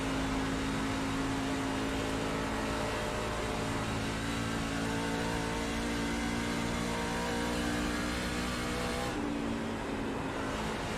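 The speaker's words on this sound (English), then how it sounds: "hear that little rev up? That's the right rear sliding just slightly coming out of the corner when we come up over that transition" A racing truck in a NASCAR sim racing game at Dover drones under a steady engine tone that rises in a small rev as the rear slides out of a corner, continuous and loud with no voices.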